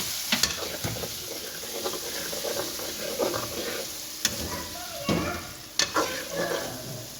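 Potatoes partly softened in a pan are stir-fried with a steady sizzle, interrupted by several sharp scraping and knocking hits of a spatula, close and fairly loud.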